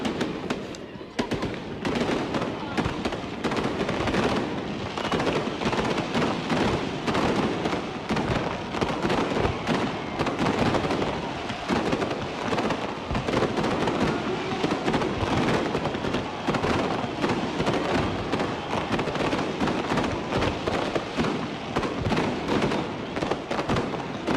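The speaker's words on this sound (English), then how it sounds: "Have enjoyed the fireworks? Absolutely brilliant." New Year's Eve fireworks over Darwin, Australia, boom and crackle continuously in a dense, loud barrage of overlapping bursts lasting throughout, with crowd noise mixed in.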